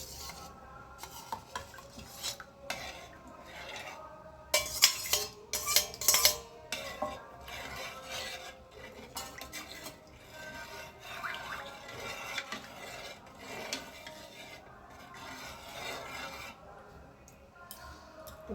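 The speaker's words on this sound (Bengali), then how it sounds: "ভালো করে আমার এটা মেশানো হয়ে গেছে" A mixture being stirred into milk for sweet curd (mishti doi) in a home kitchen, with a spoon scraping and clinking against the metal pot, loudest in a burst of clatter near the middle, with no talk.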